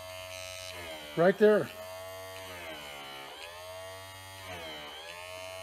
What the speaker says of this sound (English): Hear that? That's where the motor stops.